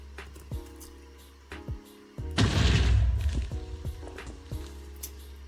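A mega TNT explosion from a Minecraft mod goes off with a sudden loud broadband blast that rumbles for about a second before fading. Fainter thuds and a steady low hum surround it, with no talking.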